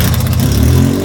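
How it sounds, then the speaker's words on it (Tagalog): A car engine runs with its exhaust pipe snapped apart at the welded joint, giving a loud, steady, rough low rumble with a raspy, uneven edge throughout and no voices. "parinig ko muna sa inyo anong tunog niya kapag putol yung exhaust"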